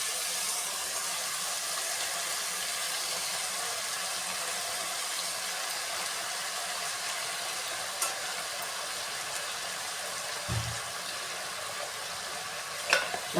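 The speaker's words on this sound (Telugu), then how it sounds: "మంచిగా ఒకసారి మిక్స్ చేసేసుకొని" A pan of brinjal and potato curry sizzles and hisses steadily while being stirred, with faint scraping and a couple of brief knocks near the end and no talking.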